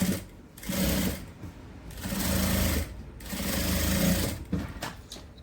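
Sewing machine stitching fabric for a travel bag, running in three sustained bursts with short pauses between, steady and close with no voices.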